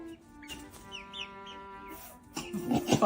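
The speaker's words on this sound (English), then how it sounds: "5 chickens. They're so big." Five large young chickens give soft intermittent clucks and chirpy calls nearby, with faint rustling and a louder burst of movement at the end.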